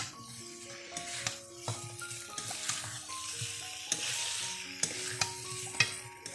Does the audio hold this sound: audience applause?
no